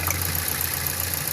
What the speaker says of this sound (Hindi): ये इंजन वाइब्रेट कर रहा है, ये अब हाई हो गया आरपीएम